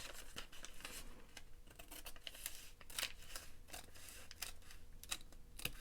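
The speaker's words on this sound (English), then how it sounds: "we're just cutting to the fold." Scissors snip through a paper bag folded for a handmade book craft, a steady run of crisp close cuts with light paper crinkling between them and no talking.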